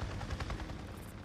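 A helicopter hovers in the video game Days Gone, a faint, steady, rhythmic rotor chop pulsing without a break.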